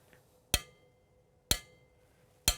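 Three sharp, bright clicks struck from waste materials by a pupil mimicking a clock tick, evenly spaced about a second apart, each with a quick metallic ring and decay over a quiet room.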